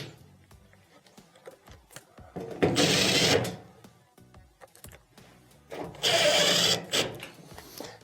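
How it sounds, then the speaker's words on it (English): A drill or screwdriver runs in two short bursts, driving screws back into a washing machine during a pressure sensor repair, close up, with faint handling clicks in between. "let's go ahead and reinstall the 3 screws"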